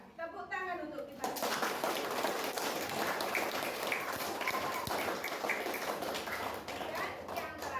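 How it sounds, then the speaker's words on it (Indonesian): A classroom of children breaks into sustained clapping that continues steadily for several seconds after a brief bit of speech. "Tepuk tangan untuk kita."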